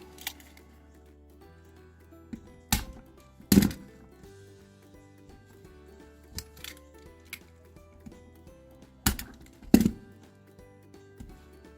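Scattered sharp snips and clicks as a fuel line hose is cut off on a Victa Swift-Start mower, several distinct cuts spaced a second or two apart against quiet background hum.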